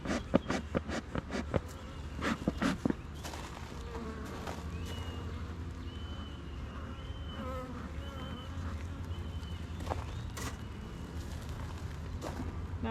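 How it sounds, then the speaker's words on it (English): Honeybees buzz steadily during a hive inspection, a faint close hum with scattered clicks and knocks of frames being handled. "this frame full of bees"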